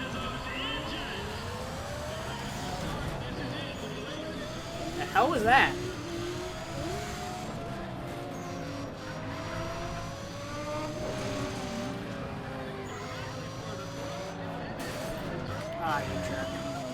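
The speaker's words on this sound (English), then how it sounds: "Listen to those engines." Race car engines roar and rev in Need for Speed ProStreet on PlayStation 3, shifting pitch as the cars accelerate, with a sharp burst midway and someone talking over the engine noise.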